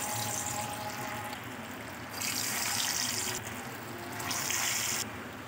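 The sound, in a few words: seekh kababs frying in hot oil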